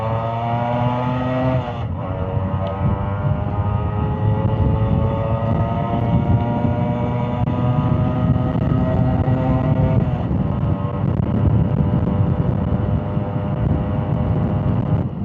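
A vintage two-stroke motorcycle engine revs steadily up close, its buzzy, harmonic-rich note rising and falling as the throttle is blipped, with sharp shifts in pitch around two and ten seconds.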